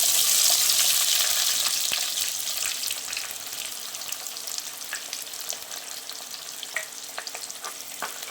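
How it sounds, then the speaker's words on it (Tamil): Fenugreek seeds fry and crackle in hot oil in a pan for a prawn curry, a steady loud sizzle with scattered pops that eases slightly after the first couple of seconds, no voices. "நல்லா பொரிஞ்சு வரட்டும். வெந்தயமும் நல்லா பொன்னிறமாக ஆகணும்."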